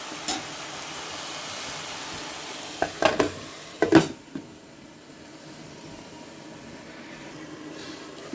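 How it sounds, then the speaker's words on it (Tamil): Masala sautéing in a pan for Chettinad chicken thokku, a low continuous sizzle with several sharp stirring clacks of a spoon against the pan in the middle, then quieter sizzling. "நல்லா வதங்கட்டும் ஃப்ரெண்ட்ஸ்."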